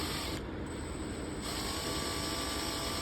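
A power drill with a bit fitted spins slowly during vintage lighter cleaning, giving a steady mechanical whir close by with a brief ratcheting edge and no talk.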